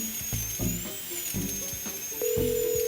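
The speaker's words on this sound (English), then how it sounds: "It's because you're drilling." A high-pitched electric drill whines steadily at night beneath a talking voice, its thin buzzing tone holding throughout and rising a little louder near the end.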